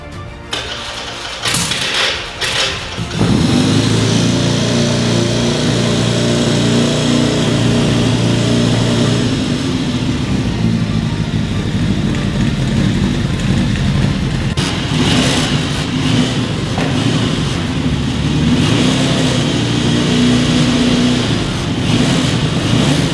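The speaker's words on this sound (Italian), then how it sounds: "possiamo accendere che sentiamo anche il rombo dello scarico fatto in casa" A Laverda Cafè Racer motorcycle engine catches after a brief cranking start, then settles into a loud, steady roar through a homemade exhaust, with a few blips of revving near the end.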